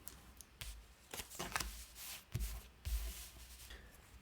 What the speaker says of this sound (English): We'll then shuffle all the resource cards with the resource part on top.